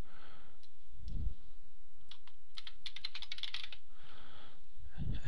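Keystrokes on a computer keyboard enter a document title in OpenOffice or LibreOffice, a quick cluster of close, crisp clicks in the middle with quieter single taps and soft breaths around it.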